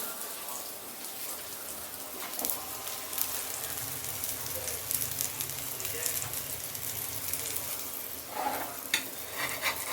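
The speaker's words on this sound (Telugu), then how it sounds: "ఒకవైపు ఫ్రై అయిందనమాట రెండో వైపు ఇలా తిప్పుకోవాలి కట్లెట్ పాలకూర" Spinach tikki cutlets, made with corn flour, shallow-fry in a pan, giving a steady close crackle with rain-like texture and a few soft scrapes as they are turned, continuous and even throughout.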